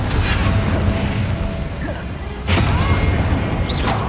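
An Incendio fire spell from Hogwarts Legacy roars as a loud, steady rush of crackling flame, punctuated by sharp impact cracks around the middle and end.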